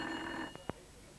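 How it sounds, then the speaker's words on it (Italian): A telephone rings faintly indoors in a 1991 Italian film scene. A soft, steady ring fills the first half-second, then two brief clicks follow in a quiet room. "suona il telefono."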